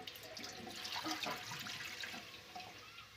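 Water pours into an iron cooking pot in a steady splashing stream, soft and fairly close, with no voices.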